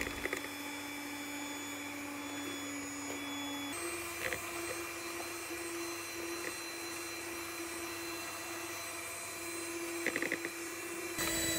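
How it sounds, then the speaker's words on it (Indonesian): Electric hand mixer whirring steadily as it beats a small batch of red velvet cupcake batter, a constant motor hum with a slight pitch shift midway and a few clatters of the beaters against the bowl. "Terus ini kita mixer hingga putih berjejak."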